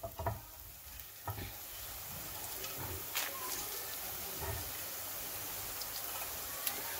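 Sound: boondi frying in oil on low flame

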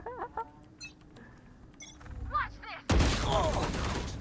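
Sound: gunfire in the video game Valorant

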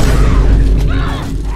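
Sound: rifle gunshot in video game The Last of Us Part 1

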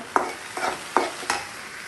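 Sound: onions frying and being stirred in a pan

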